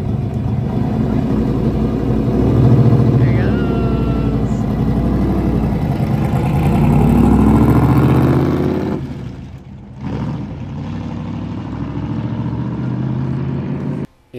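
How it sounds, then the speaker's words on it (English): Loud NASCAR race car engine at Las Vegas Motor Speedway, roaring steadily as it accelerates with rising revs and a brief dip mid-way like a gear change, then resuming its drone. "getting on it, racking through the gears, and starting to kind of feel the car"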